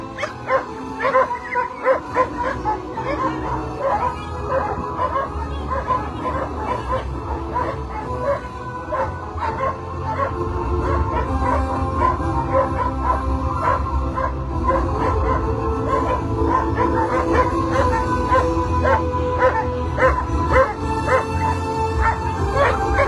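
Sled dogs bark and yip continuously at the start of a stage of La Grande Odyssée mushing race in Châtel-Abondance, a loud, dense chorus of many dogs close by, growing busier partway through.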